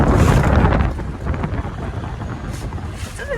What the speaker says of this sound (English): It's a little windy today.